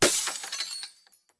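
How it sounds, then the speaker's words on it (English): A heavy wooden bar stool hurled into a sliding glass door gives one loud, close crash of shattering glass, followed by a brief scatter of tinkling fragments that quickly fades to silence. "threw it with everything I had at the sliding glass door."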